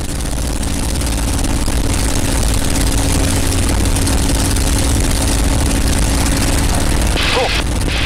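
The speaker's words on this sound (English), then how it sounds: "Here comes the magneto check. Left side only. Back to both. Now right side only." A P-51 Mustang's piston engine runs steadily during a magneto check, a loud, close, continuous drone and rumble that holds nearly level throughout, with a brief change near the end.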